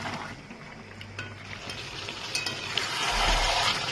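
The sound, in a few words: meat being sautéed (kasha) in a pan for chicken curry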